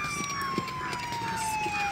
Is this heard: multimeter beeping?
no